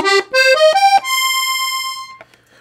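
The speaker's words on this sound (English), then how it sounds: "And here are the two reeds together for the violin sound." Two MM-tuned reeds sound together on the treble of a red Walther Teeny 48 piano accordion, giving a violin tone: a few quick rising notes, then a long sustained note that tapers off. Close, solo, no speech.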